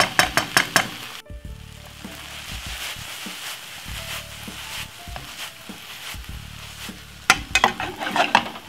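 King prawns sizzle steadily in a hot pan, with a few sharp stirring scrapes and utensil clicks at the start and end, the frying hiss continuous throughout with no talking.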